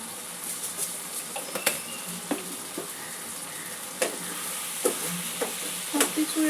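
Spice masala with green chillies fries in a pan for a ridge gourd and red lentil curry. A steady close sizzle runs throughout, broken by scattered scrapes and clicks of a spoon stirring.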